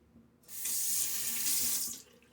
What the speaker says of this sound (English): terrific when you're rinsing out your bowl and washing it